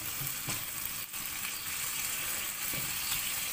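Chicken fries in a pan with a steady, close crackling sizzle throughout and a few faint stirring clicks, with no talking.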